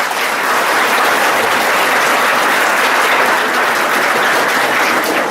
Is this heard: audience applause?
yes